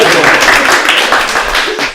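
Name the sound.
audience applause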